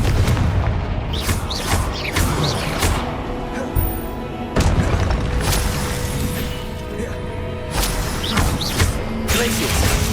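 Fiery Confringo spell blasts in the Hogwarts Legacy video game go off as repeated booming bursts and thuds over a dense, loud battle bed, with a few sharper impacts spaced through the fight.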